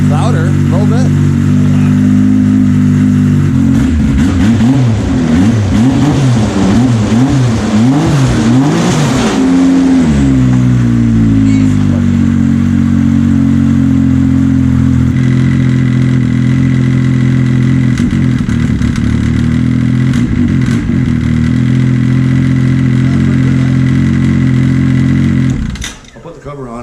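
A Yamaha Sidewinder snowmobile engine, reflashed to 270 hp, idles, then revs up and down in wavering bursts before settling back to a steady idle, loud and close throughout.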